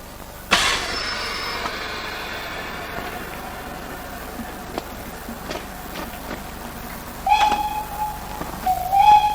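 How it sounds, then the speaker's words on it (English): The small locomotive Ginty sets off hauling a train on the Keighley & Worth Valley Railway, with a sharp burst of steam, soft chuffs and clanks, then a whistle and rising squeal near the end. "The all-clear signal is given to the driver, and the train sets off on its first run to Keighley."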